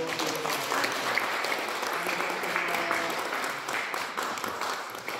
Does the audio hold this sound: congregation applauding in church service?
yes